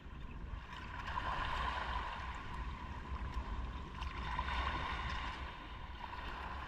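A boat sits on open water off an island, with a steady broadband wash of water and engine-like rumble running continuously at moderate level and no voices.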